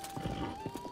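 Horse in the video game Zelda: Breath of the Wild, a short burst of rhythmic hoofbeats with a faint neigh, quiet and brief under game background sound.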